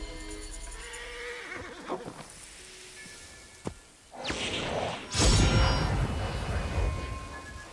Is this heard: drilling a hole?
no